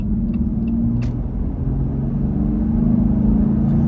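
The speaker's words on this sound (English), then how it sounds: "That's the sound that you get normally, just driving normally, not stomping on the gas from the cold air intake." Jeep Gladiator with a cold air intake driving at light throttle, producing a low, continuous engine rumble heard close and steady throughout.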